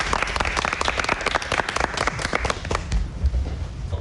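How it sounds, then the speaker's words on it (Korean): A studio audience claps to welcome the start of a Korean lecture on interest rates, a dense burst of many hands that thins and fades toward the end. "자, 박수로 강의 부탁드리겠습니다."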